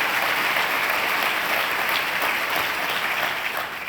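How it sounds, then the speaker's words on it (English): A conference audience at the State of Latino Entrepreneurship Summit at Stanford gives a team sustained applause: dense, even clapping from a large room, loud throughout and easing slightly at the end. "A round of applause for this great team here."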